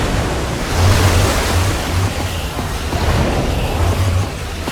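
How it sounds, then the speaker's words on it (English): Gushing water in the video game Minecraft Story Mode: a steady, loud rushing surge with low rumbling swells that rise and fall throughout, with no talking. "I don't know how much water this thing is gonna kick out,"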